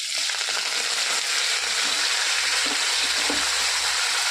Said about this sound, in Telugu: ఇగో కరివేపాకు వేస్తున్నాను.